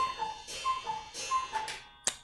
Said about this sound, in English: I love my cuckoo clock.